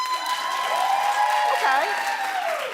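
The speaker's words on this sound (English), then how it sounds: "Clap if you did." A studio audience claps and cheers in a talk-show setting, a sustained mass of applause with whoops and cheering voices rising above it throughout.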